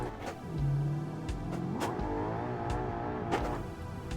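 A flat-eight engine fitted to a race car in a driving game revs repeatedly, rising and dropping in pitch with sharp gearshift breaks. Loud and continuous throughout.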